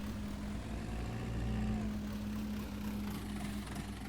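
The tractor engine in Farming Simulator 19 hums at a low, steady idle with a constant tonal drone, fairly quiet and unbroken throughout.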